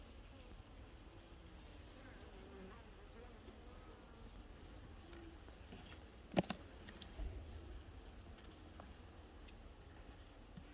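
Honeybees hum in a low, steady drone during autumn syrup feeding, continuing throughout, with a couple of brief knocks partway through.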